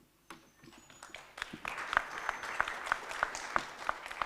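Scattered applause from a seated audience at a community dialogue event on gender-based violence, a thin mix of clapping that settles into one person's distinct, evenly spaced claps over faint background clapping.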